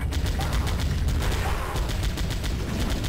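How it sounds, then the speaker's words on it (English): A machine gun in the game Powerslave fires in a continuous rapid stream of loud, closely spaced shots with a steady pulsing rhythm throughout. "here's our second gun, the machine gun"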